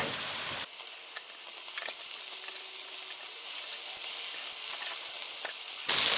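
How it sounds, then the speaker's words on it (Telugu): Chicken liver and gizzards fry in ginger garlic paste in a street-style pan, sizzling loudly and steadily with occasional stirring clicks, close and without any talk. "ఇప్పుడు దీంట్లో మనం లివరు కందనకాయలు వేసేసుకుందాం"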